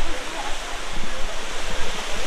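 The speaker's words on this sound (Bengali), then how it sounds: "উপর থেকে জলটা পড়ছে অনেক উঁচু থেকে" A high waterfall near Shillong in Meghalaya pours down from a great height, a loud continuous broad rushing roar that holds steady without a break.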